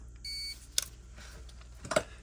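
A short, steady electronic beep from a multimeter continuity test sounds once near the start, quiet against a low background hum, followed by a couple of brief clicks, while testing a Whirlpool/Kenmore dryer heating element.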